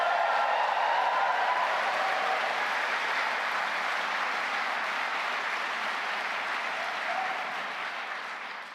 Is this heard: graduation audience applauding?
yes